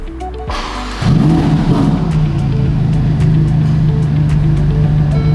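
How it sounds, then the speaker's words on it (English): A 2021 Ferrari Portofino M fires up with a loud sudden burst about a second in, revs briefly, then settles into a steady, deep close idle. "Okay, let's start the car."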